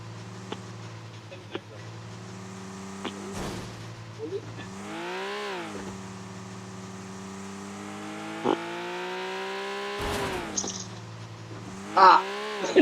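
A motorcycle engine drones and revs in the video game PUBG, rising and falling in pitch as the bike speeds up and slows. Scattered thumps and brief game noises sound over it.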